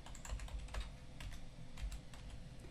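Steady keystrokes on a computer keyboard entering a username and password into a shop login page, a quick continuous patter of close, fairly quiet key clicks with no talking.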